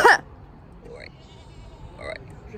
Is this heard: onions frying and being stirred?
no